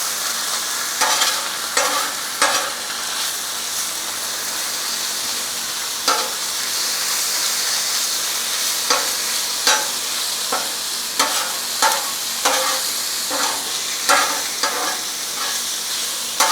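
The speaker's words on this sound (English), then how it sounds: "I love that sizzle, with 1/2 pound bacon." Half a pound of bacon sizzles and crackles steadily in a hot pan for shrimp and grits, a dense frying hiss punctuated by frequent short pops and stirring scrapes, with no talking.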